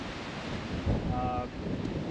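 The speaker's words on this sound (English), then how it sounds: "Wind's dead in the face." Steady wind gusting across the Marsh Landing CC golf course, buffeting the microphone with a continuous broadband rumble and hiss that swells briefly near the middle; no voices.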